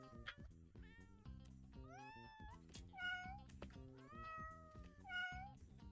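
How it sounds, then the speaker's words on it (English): A cartoon cat cooking in a kitchen in a small indie video game gives a series of short, high, bending meows from a meow button, repeated several times over a tonal background. "There's a meow button."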